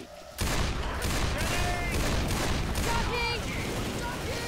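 Rapid, dense pistol fire with unlimited ammo in Left 4 Dead 2, shots crackling continuously and loudly after a brief quiet start, mixed with game noise and players talking.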